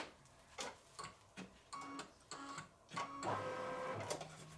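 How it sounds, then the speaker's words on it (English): A home embroidery machine sews appliqué placement stitches, giving a steady mechanical ticking and whirring in short bursts separated by brief pauses, close and fairly quiet, with no voices. "it's only giving me a placement stitch and a final stitch"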